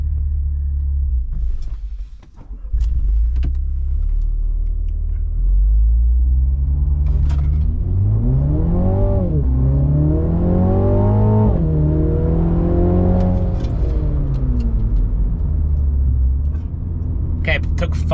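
A MINI JCW GP3 accelerates hard from 0 to 100 km/h, its engine rumbling loud and close, pitch climbing through rising sweeps with brief dips at gear changes, and speech heard over it.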